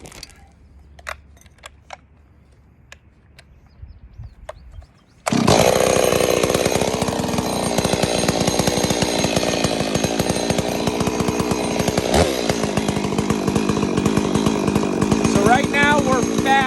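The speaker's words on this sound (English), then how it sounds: "we're gonna play with the high jet, screw that in and out so you can see how the pitch changes" After a few quiet clicks, a chainsaw engine roars to life and drones loudly at high revs as its carburetor high jet is adjusted, its pitch shifting slightly as it runs.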